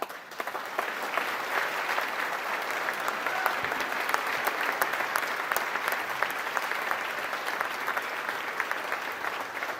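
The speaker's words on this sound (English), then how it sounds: "So I would like to give a big round of applause to Danielle, to Ryan, and to Alana" Sustained audience applause fills a large hall at a governor's State of the State address, a dense, steady wash of clapping that holds at an even level for the whole stretch with no speech over it.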